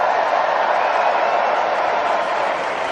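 An audience at an inauguration after-party event applauds steadily and loudly, a dense wash of clapping hands that holds constant throughout.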